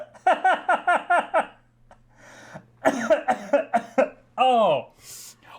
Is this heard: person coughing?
yes